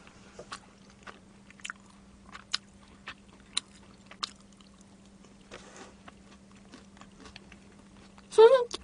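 Someone eats fried chicken from Soonsoo Chicken, producing close, crisp bites and crunchy chewing in scattered separate bursts against a low steady hum, with a louder burst at the end.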